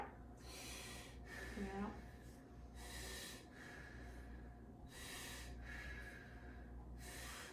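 Deep, slow breaths drawn in and let out through the mouth during a chest exam with a stethoscope, several broadband whooshes in a steady rhythm, close and soft, with a brief murmur of speech partway through.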